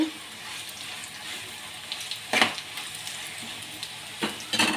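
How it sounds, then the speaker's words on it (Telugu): Bitter gourd (kakarakaya) fries in a pan with a continuous close sizzle, broken by a few louder scraping stirs of a spatula. "కాసేపు వేగనివ్వాలి కాకరకాయ వేగిందండి"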